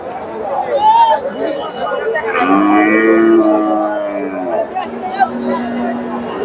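Friesian heifer cattle at a busy cattle market in Bogura, with a drawn-out moo rising over the chatter of a crowd and people talking nearby throughout.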